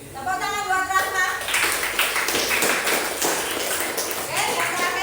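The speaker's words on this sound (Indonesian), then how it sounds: "Tepuk tangan buat Rahma" A classroom group claps for a student named Rahma, a burst of hand claps rising over brief lingering room sound and continuing for several seconds.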